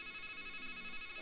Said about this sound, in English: Can I use the phone?